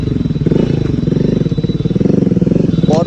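A modified Hero Splendor motorcycle: a loud, close, chugging single-cylinder engine with steady rapid pulsing and a brief rev at the start and again near the end, with no talking.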